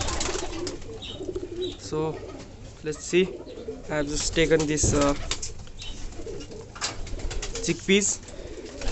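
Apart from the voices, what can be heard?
birds cooing in a loft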